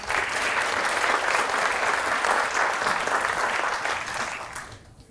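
A roomful of guests at a female athletes awards dinner claps steadily in a dense, even burst of applause that thins and fades away at the very end.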